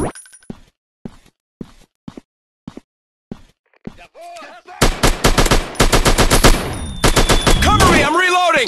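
Gunfire in an Android army war shooter game: a few sparse, isolated shots first, then dense rapid automatic bursts with crashing impacts, loud and close throughout.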